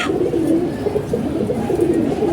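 A molting pigeon coos in low, repeated, throaty calls that roll on steadily throughout, close and fairly loud over a continuous background murmur.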